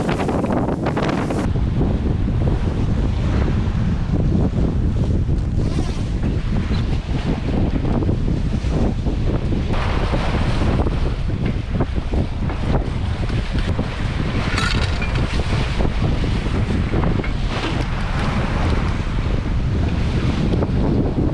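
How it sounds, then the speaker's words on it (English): Strong wind buffets the microphone on a sailboat at sea in 13 to 15 knots of apparent wind, with waves rushing and splashing against the hull in a loud, continuous roar throughout. "The winds are like right on the edge of being too strong"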